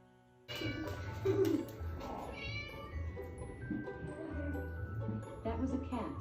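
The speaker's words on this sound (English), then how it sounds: "That was a cat." A cat meows several times at close range, the calls fairly loud and drawn out, with a person talking around them.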